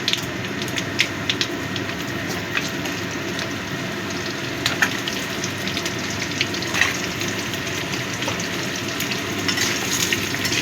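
Cut potatoes frying in oil in a pan, a loud steady crackling sizzle throughout with scattered sharp pops and spatters.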